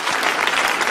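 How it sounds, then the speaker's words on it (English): Church congregation applauding during a service, a dense, steady wash of many hands clapping close by, continuous and loud throughout with no break. "Let's give God a round of applause on his behalf."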